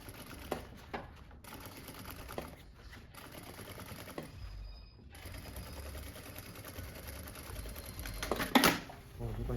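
A sewing machine topstitches along a backpack seam in steady mechanical runs with brief pauses, one louder burst near the end, while a person talks over it.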